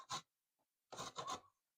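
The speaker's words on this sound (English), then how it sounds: "So I grate our corn." Fresh corn grated by hand for Jamaican boiled dumplings, with one short rasping scrape followed by two quick strokes close together. The sound is close and faint against a silent background.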